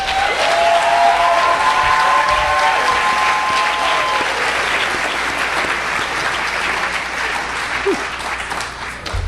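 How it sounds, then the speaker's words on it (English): A large crowd applauds graduates at a ceremony, clapping steadily and loudly for several seconds, with a whistle near the start, the applause slowly thinning toward the end. "Let's give all of our graduates a round of applause."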